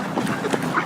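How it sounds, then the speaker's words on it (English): Ducks quack from a flock outdoors on a wet golf course, short harsh calls rising repeatedly over about a second, fairly close and loud. "Hello, ducks."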